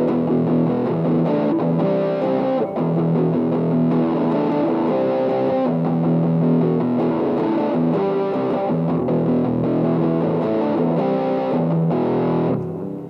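Electric guitar played through a Boss DS-2 Turbo Distortion pedal with distortion at half and tone fully down, sustained saturated chords and riffs ringing loud and continuous for the whole stretch, with no talking.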